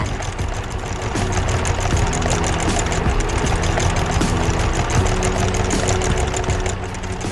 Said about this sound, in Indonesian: Besar sekali, traktor ini sedang bekerja di tanah berdebu